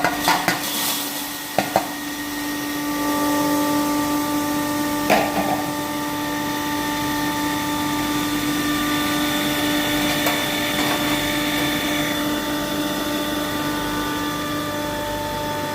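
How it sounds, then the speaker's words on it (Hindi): A heavy-duty 3 HP single-chamber stainless-steel pulverizer flour mill runs steadily, a loud sustained whine with strong tonal hum and a few clanks near the start. "pulveriser machine heavy duty"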